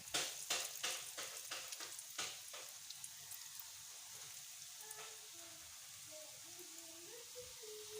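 Potato cutlets are lowered into hot oil and start frying: a run of sharp crackling bursts, then a steady close-up sizzle, with someone talking over the later part.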